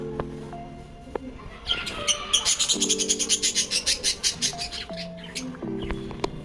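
Birds call noisily at close range, with rapid rhythmic chirping bursts in a steady run and longer tonal whistles before and after, and no talk.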